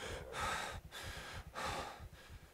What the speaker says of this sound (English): I'm breathing heavily.